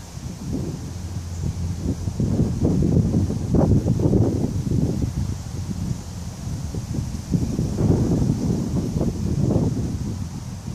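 Wind gusts outdoors over a burning cotton ball, a steady low rumbling roar that swells and eases in waves for the whole stretch, with no voices.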